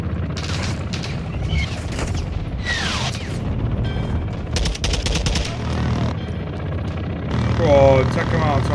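Bursts of gunfire from a called-in fire mission in Modern Warfare II crack out in loud, dense volleys over a continuous rumble, with people talking throughout.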